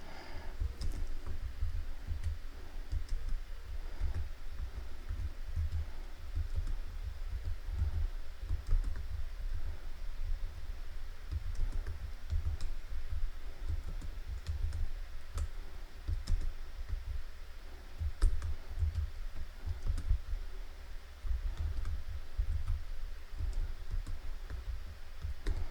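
Computer keyboard typing while coding a LeetCode problem, with a continuous close stream of quick key clicks and taps at a steady, busy pace and no talk.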